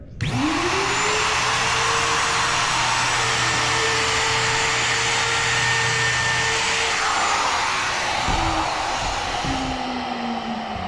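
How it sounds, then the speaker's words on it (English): Wood router with a bearing-guided bit spinning up to full speed and cutting along a board edge, a loud steady high whine throughout with the pitch dipping slightly as it bites into the wood near the end. "I'll turn it on, let it reach full speed, then I'll move into it and go ahead and start cutting it."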